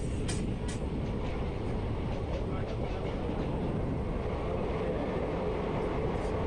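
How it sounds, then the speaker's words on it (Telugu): An express train on the Kurnool to Guntur line runs through a hill tunnel, producing a loud, steady low rumble and roar that fills the whole span, with faint brief clanks near the start. "స్వరంగం గుహలోంచి వెళ్తుంది కొండ గుహలోంచి ట్రైన్ వెళ్తుంది"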